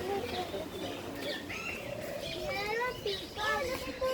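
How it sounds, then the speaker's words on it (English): Pigeons coo and birds chirp in a large outdoor aviary at a lakeside park in Islamabad, scattered calls over a busy background with people talking and children nearby. "Oh, peacock pigeons."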